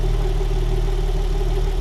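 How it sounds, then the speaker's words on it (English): A Nissan 300ZX twin turbo engine idles smoothly and steadily, a loud, close, even low hum with a faint steady whine above it and no talking. "Idling at about 750 on the dime,"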